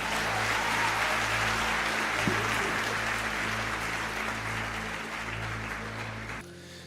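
A church congregation applauds together, a sustained wash of clapping that slowly thins and fades over several seconds before cutting off.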